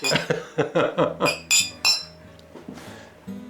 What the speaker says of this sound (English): We shall first of all toast to new friendship.